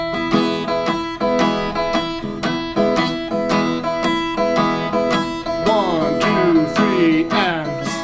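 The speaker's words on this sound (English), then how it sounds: "a simple 12-bar blues in E" A guitar strums a simple 12-bar blues in E with steady rhythmic chords and string bends, close and fairly loud, with no voice over it.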